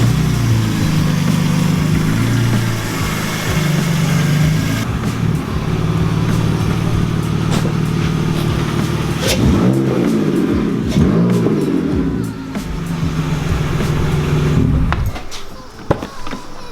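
A BMW E46 car engine rumbles steadily nearby, rising and falling as the car moves and turns around, with a brief revving surge before settling and fading.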